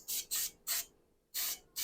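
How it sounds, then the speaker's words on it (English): Cooking spray hisses onto metal egg rings set over a skillet, four short bursts with brief gaps between them, close and fairly loud, and no talking. "We're just going to take some cooking spray and we're just going to spray them real good here all around."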